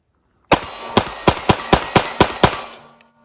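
Nine rapid pistol shots from an HK P7 fired in a quick, even burst, each a loud sharp crack close by, the string ending abruptly and fading into silence.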